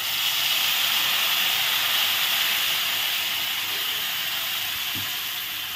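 Peanut and sesame paste sizzles steadily in a hot kadai with black cumin and dried chillies, giving a continuous loud hiss that holds even throughout, with no voices over it.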